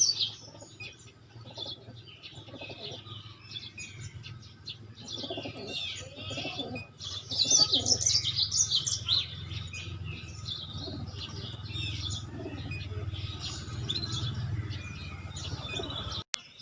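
A kacer (magpie-robin) songbird kept in a cage during sun-drying therapy chirps and warbles in repeated bright phrases, fairly close and steady, with a low hum running underneath.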